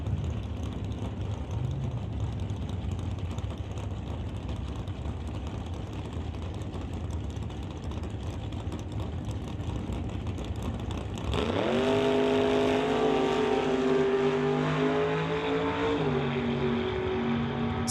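A purple and white 1955 Chevy drag race car runs at the track. A distant engine drone is followed by a loud close launch, its pitch sweeping up through the gears and dropping at each shift.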